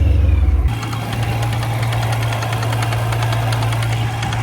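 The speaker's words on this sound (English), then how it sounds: "That rod knock sound is actually real." A car engine idles with a steady metallic knock, its rhythmic clatter from a faulty blow-off valve spring sounding like rod knock. It runs loud and close after a brief startup, with no one talking.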